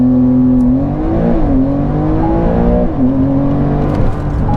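A flat-six sports car engine roars steadily and climbs in pitch under launch control acceleration, dipping briefly at gear changes before rising again, close and loud.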